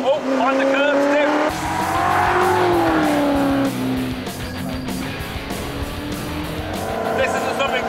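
A South African-made Noble SPF GT40 sports car is driven hard on a race track, its engine revving loudly with rising and falling pitch and tyre squeal, while a voice talks over it.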